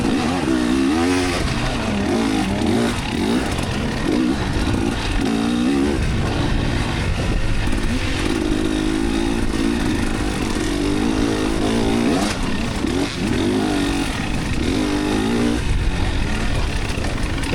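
A KTM 300 XCW dirt bike races through a hare scramble on wooded trails, its two-stroke engine droning loud and close throughout, rising and falling in pitch as the throttle opens and closes with no letup.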